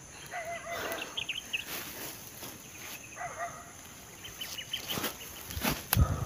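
Guard dogs bark faintly at a distance in short, scattered bursts over a hissing outdoor background.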